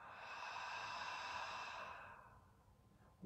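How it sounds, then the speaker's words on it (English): A deep, slow exhale through the mouth during a guided yin yang yoga breathing exercise, a long breathy hiss close to the listener that fades away, with a faint intake at the end. "exhale through your mouth"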